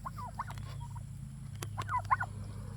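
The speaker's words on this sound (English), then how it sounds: "We had 4 turkeys from babies." Farm turkey gobbling, two quick rattling gobble bursts close by over a low steady background hum.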